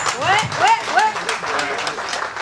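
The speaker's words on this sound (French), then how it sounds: "applaudissez-vous parce que c'est nous les enfants de l'indépendance" Crowd clapping at a Comoros independence celebration in 2023, with loud cheering and whooping voices rising over the applause near the start before it settles into steady clapping.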